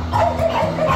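Bulldogs and pugs in a kennel give a short, loud burst of barking and yipping with a whimpering edge. The sound is close and continuous over about a second.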